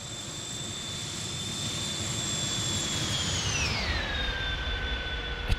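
Airbus Beluga jet climbing out of Heathrow in a flight simulator game: a steady, loud engine roar with high whining tones that slide downward partway through, sustained throughout with no talking.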